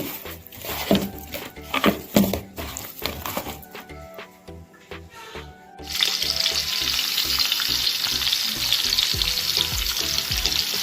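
Fish coated in masala fries in coconut oil with a steady, close sizzle. Quieter stirring clatter comes first, then the sizzle swells and holds loud and even.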